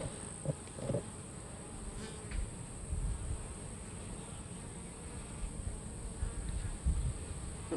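Honey bees buzzing around an open hive during an inspection, a faint continuous drone with a few louder passes close by and no talk.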